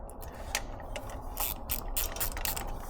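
A hand ratchet clicks in quick bursts of close, sharp pawl ticks while a 10 mm bolt is loosened on a stunt Grom motorcycle, with short pauses between strokes and no talking.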